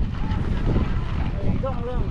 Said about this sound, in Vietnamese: gió nó giật kinh lắm